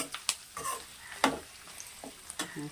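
Crackling sizzle of tempering spices with a little turmeric frying in hot oil, with scattered sharp pops and a spoon scraping now and then, fairly quiet and close.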